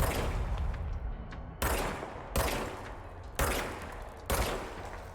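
Gunshots ring out in the action game Control, arriving as four or five loud, sharp bursts spaced roughly a second apart, each followed by a ringing, noisy tail with no talking over them.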